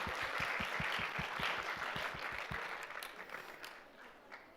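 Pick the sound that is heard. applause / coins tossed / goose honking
applause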